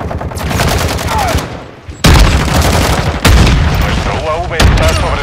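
Loud bursts of automatic gunfire in Call of Duty: Modern Warfare II, with dense rapid shots and booming blasts breaking in at intervals, close and continuous, with voices underneath.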